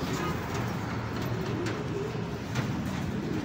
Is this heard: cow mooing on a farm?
no